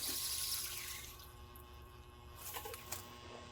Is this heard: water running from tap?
yes